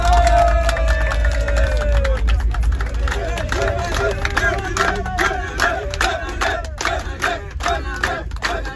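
A large crowd at a rally cheers, shouts and claps together in a loud, continuous roar with sharp clapping bursts throughout. Voices call out over the din.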